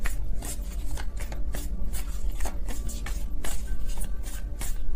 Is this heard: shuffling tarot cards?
yes